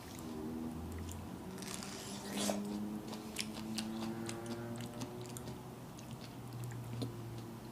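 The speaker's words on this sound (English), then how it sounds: "It's a crunchy peach." Someone chewing a crunchy peach outdoors, a run of soft close bites and crunching chews with faint background voices.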